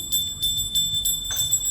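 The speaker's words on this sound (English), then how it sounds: "So whenever you offer, don't forget to bring the bell." A small hand bell rings repeatedly during a Hindu deity worship offering, with rapid, bright, clear strokes close by and no voices.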